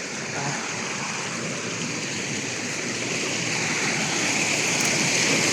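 A sizeable mountain stream on an old cliffside trail rushes by, a loud, close, continuous broadband wash that holds steady throughout with no voices.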